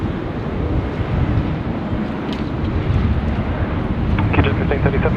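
A jet airliner departing Sydney Airport at full power, a steady loud broadband engine roar that swells toward the end, with brief voices over it.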